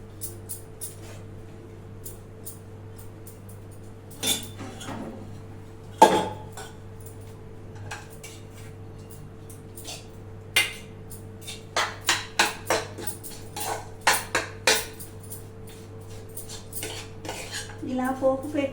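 A spoon scrapes and clinks against a metal vessel while cooked rice is stirred with tempering, a string of sharp irregular clanks, sparse at first then quicker toward the end, over a low steady hum.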